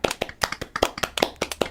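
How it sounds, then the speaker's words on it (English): A small group on a podcast claps together in a short round of applause, about eight distinct sharp hand claps falling in a steady, fairly close rhythm with no talk over them. "So Round of applause for the catch day."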